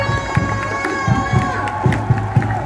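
A football crowd at Stadion Brawijaya in Kediri cheers and chants in a steady, dense roar, with rhythmic claps or beats repeating through it and a sustained horn-like tone on top.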